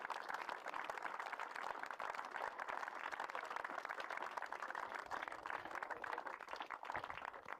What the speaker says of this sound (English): Let's have a round of applause for Dan Lincoln, the captain of the British and Irish Knights.